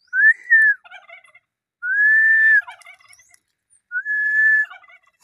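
A turkey gives three separate high, sustained calls a couple of seconds apart, each clear and fairly close, with faint chirps between and no talk.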